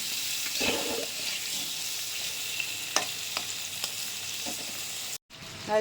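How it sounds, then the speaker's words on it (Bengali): Pieces of fish with salt and turmeric fry in a pan, giving a steady hiss with a few soft spoon or utensil knocks and a brief clatter near the end. No one speaks. "এবার এটাকে ঢেকে দেবো, একটু ভাজা হোক হালকা"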